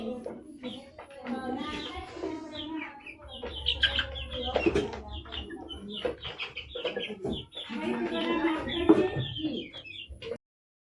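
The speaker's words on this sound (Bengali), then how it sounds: "এই যে দেখুন মুরগিগুলো কতটুকু হয়ে গেছে" Hens and their growing chicks cluck and peep in a coop, the calls close and busy, mixed with scattered chirps and some voices talking.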